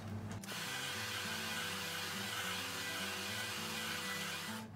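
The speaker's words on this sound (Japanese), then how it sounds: "こっちに向けてドライヤーの風を当てていきます。" A hair dryer blows on hair at close range during a salon styling session, making a loud, steady whirring roar. It starts with a brief click and then runs continuously with no talking.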